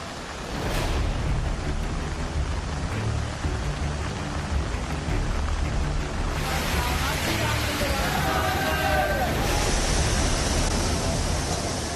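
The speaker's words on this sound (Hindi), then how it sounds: "मंडी में ब्यास नदी में पानी के बहाव से निकलता ये शोर इलाके के लोगों को भयभीत करने लगा है" The flooding Beas river in Mandi during monsoon rains, a continuous loud broadband roar of rushing water that stays steady and overwhelming throughout.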